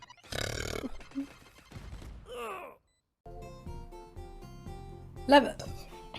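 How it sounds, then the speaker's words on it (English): A young woman on a livestream lets out a short burp between stretches of talk and music, the belch a brief low rumble close to the microphone. "Oh my god, sorry, I just burped."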